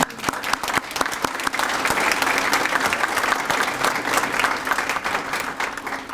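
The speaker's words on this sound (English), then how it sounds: "I think she needs another round of applause for that." A school graduation ceremony audience bursts into sustained applause, with a few sharp individual claps up front before the crowd fills in to a thick, steady roar of clapping that carries to the end.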